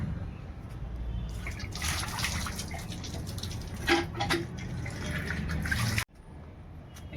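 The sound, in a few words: washing hands with running water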